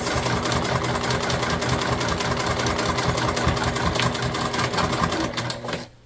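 A sewing machine runs steadily through a back stitch on a fabric pouch, its needle hammering in a fast, even rhythm for several seconds before slowing and stopping near the end.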